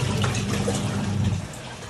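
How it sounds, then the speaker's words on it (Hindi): Water pours steadily into a bucket in a continuous, close rushing splash that thins and softens toward the end, with no talking over it. "पहले एक बाल्टी में हम पानी डालेंगे"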